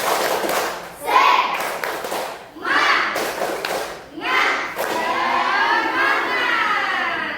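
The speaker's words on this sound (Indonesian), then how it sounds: "1, 2, 3, tepuk semangat" A group of children in a classroom chant "1, 2, 3, tepuk semangat" and clap together in a rhythmic pattern, with bursts of claps and voices rising and falling over several seconds.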